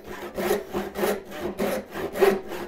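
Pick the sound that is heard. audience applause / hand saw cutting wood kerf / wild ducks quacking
hand saw cutting wood kerf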